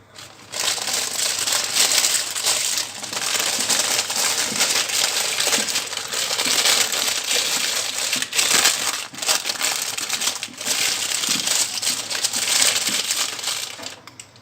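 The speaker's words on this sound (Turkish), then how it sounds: "Yemeğimi şöyle yağlı kağıtla kapatıyorum önce tenceremin etrafından." Continuous crisp crinkling and crumpling of parchment paper being pressed and folded around a pot, close up and loud, without pause for about fourteen seconds.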